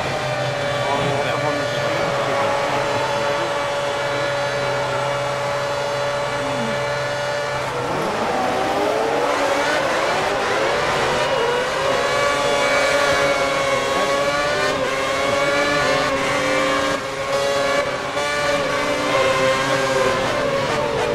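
Race car engines in a racing video game accelerate together at the start of a rain race, a steady droning whine that swells into rising, overlapping revs, with a voice speaking over the engines.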